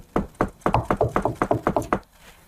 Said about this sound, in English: you actually hear a knock on the door at that point